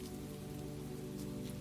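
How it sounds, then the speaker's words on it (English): Steady rain falls across a Spanish courtyard, a dense, even hiss of drops on surfaces with a low, constant wash underneath, continuous and close for the whole short stretch. "By then the rain had deepened."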